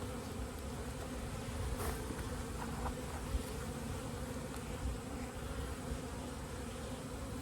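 Honeybees from a calm colony hum steadily at an open hive during a fall inspection, a dense continuous buzz close by with no voices.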